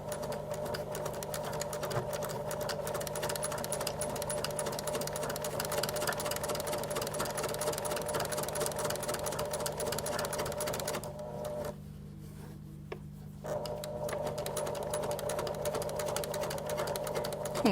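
A sewing machine runs top stitching along the edge of a fabric face mask, its fast steady mechanical whir going for long stretches with one brief pause, close and alone.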